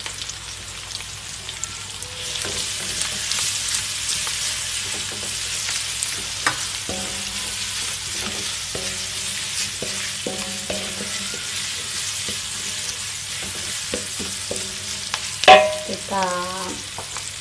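Ground spice paste and flattened galangal for beef tongseng sizzle steadily in a pan, with stirring scrapes throughout and a brief louder clatter near the end; a voice speaks a few words.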